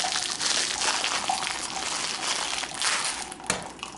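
Plastic packaging of a new Keurig water filter being crinkled and torn open near a running older-model Keurig K-Cup coffee maker, with steady close rustling over a continuous background hiss of water.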